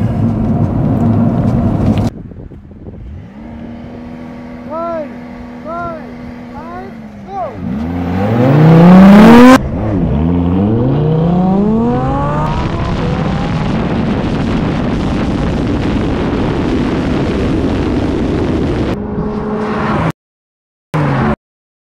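Porsche 992 Carrera GTS and Audi R8 V10 drag racing, engines idling, then winding up through rising revs and gear shifts into a loud sustained roar with wind buffeting, fading to a steady rush, with a voice talking over it.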